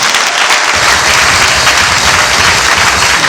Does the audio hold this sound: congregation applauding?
yes